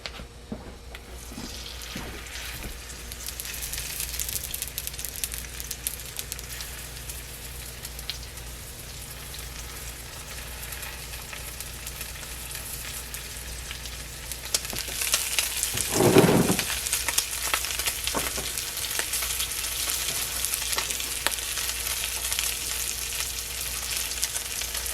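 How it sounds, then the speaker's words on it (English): Continuous hiss and crackle of a bacon cheeseburger quesadilla searing in a hot frying pan, with occasional clinks and a brief louder burst midway. "Then we're going to get them in the frying pan, and we're going to get a beautiful sear on both sides."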